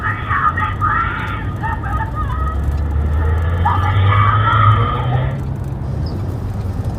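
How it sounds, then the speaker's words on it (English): Distant, strained human screams rise and fall over constant outdoor noise, with a low rumbling like a passing vehicle, recorded by a fixed Ring doorbell camera. "this was a Ring camera, doorbell camera, that recorded the screams"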